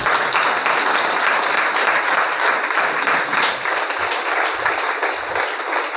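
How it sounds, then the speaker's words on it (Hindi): A crowd applauds loudly and steadily at a public gathering, dense clapping filling the whole stretch without a pause and fading only slightly near the end. "एक तालियां हो जाए,"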